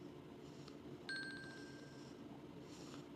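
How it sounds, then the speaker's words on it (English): A phone alarm rings during an epoxy swirl pour, a short electronic chime of rapid repeated beeps lasting about a second, moderately loud over a quiet room hiss, with faint soft tones before and after. "That's my alarm telling me I need to get in there quickly and do my last swirl."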